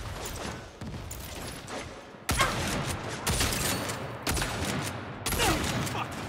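Gunshots in Saints Row, four or five loud booming shots spaced roughly a second apart, each with a lingering crackle and decay, close and prominent.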